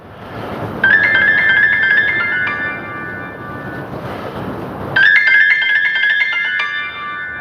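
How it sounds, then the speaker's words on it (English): A mobile phone rings outdoors in two bursts of a bright, repeating electronic ringtone, the second burst starting after a short pause, loud and close against steady wind noise and a soft outdoor background. "here goes my telephone ringing"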